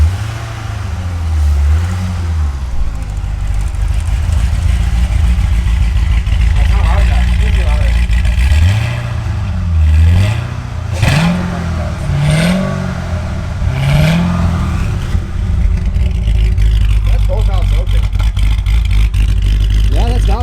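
A wrecked Chevrolet Corvette C6 Z06 engine runs steadily, loud and close, with several revs rising and falling over the idle as people talk nearby.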